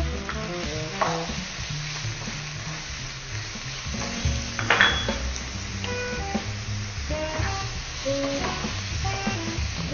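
Diced filet mignon for picadinho sizzles loudly in a hot pan, a continuous close frying hiss, with the scrape and clatter of stirring throughout.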